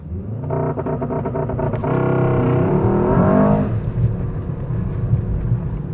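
A 2026 Mercedes-AMG S63 Manufaktur engine roars through a launch-control start, a loud rising rev that climbs in pitch over a couple of seconds, then drops away into a rumbling idle, heard close from inside the car.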